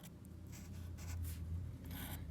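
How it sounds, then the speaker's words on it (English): Pencil tracing over lines on paper for word art, soft scratchy strokes in short bursts, quiet and close with low room hum beneath. "So I'm just going around those pencil lines that are posted"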